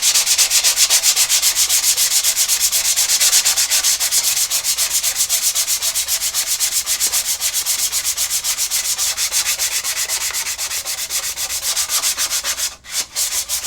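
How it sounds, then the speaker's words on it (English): A Corvair part is sanded by hand with 320 grit sandpaper, giving a loud, steady, fast rhythmic rasp of back-and-forth strokes that continues without pause for over ten seconds. "we're going to sand this thing. See if 320 will do it, but probably not."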